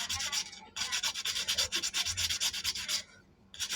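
Brisk back-and-forth rubbing to clean the magnet of a 12-inch metal-blade electric fan motor, close up. The scrubbing comes in quick, even strokes with a brief pause partway through and another near the end.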